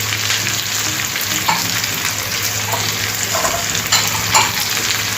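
Carrot pieces and peanuts fry in a pan for wheat rava upma, with a loud, steady close-up sizzle and occasional stirring scrapes throughout and no speech.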